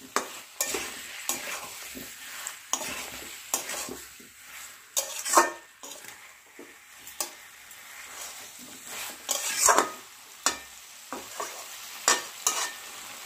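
Potatoes and peas frying with spices in a pan for alur dom, stirred in irregular scraping bursts over a steady close sizzle, with occasional utensil clinks against the pan.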